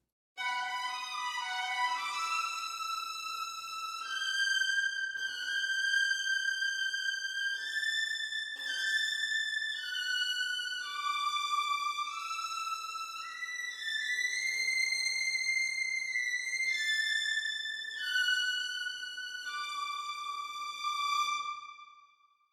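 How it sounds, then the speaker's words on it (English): Sample Modeling virtual solo and ensemble strings, first violins alone, play a Lord of the Rings phrase at strong fortissimo: sustained bowed notes stepping through a melody, steady and loud with no talk, ending in three accented notes. "Let's have a listen to only violins 1 and see how they sound"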